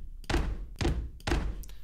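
Three heavy foot stomp samples from the Toontrack UK Pop EZX library land at an even pace, each a deep thud of a shoe on a floor, close and punchy.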